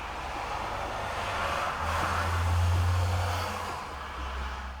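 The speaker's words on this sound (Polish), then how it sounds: "Parking przy bazie Omega Pilsno brzmi tak." Steady low engine rumble of idling trucks in a truck company's base parking lot, swelling briefly as one runs louder, with broad background traffic hiss.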